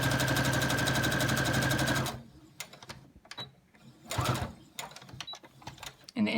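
A sewing machine stitches binding onto a gathered fabric face mask, running in one steady, loud mechanical whir for about two seconds before stopping, followed by quiet handling noises.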